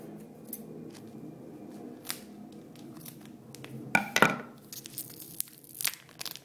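Package tape sliced open on a mailday parcel, with a close, sharp burst of snipping and tearing near the middle among softer scattered rustles and handling noises.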